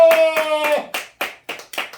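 A church congregation claps together at a Sunday service in a burst of quick, loud, sharp claps that settles into a slower, steady rhythm over about two seconds.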